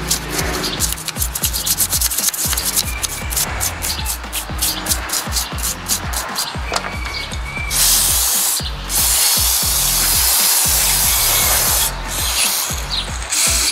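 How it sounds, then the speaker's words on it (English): A part from an abandoned 1963 Volkswagen dune buggy is sprayed and scrubbed with a toothbrush: rapid, close, rhythmic bristle scrubbing strokes, broken by a couple of longer hissing spray bursts near the end, with no talk. "So I'm just going to go ahead and just lightly spray that off and hit it with that toothbrush."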